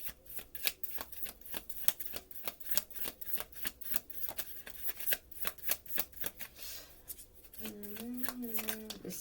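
Tarot cards are shuffled by hand in a steady, rhythmic series of crisp riffling flicks, close and quiet, followed by a brief tonal sound at the end.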